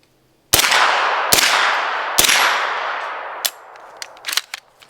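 An MP5 fires three sharp, loud shots about a second apart with ringing echoes, followed by a few lighter clicks and clatters, no voices.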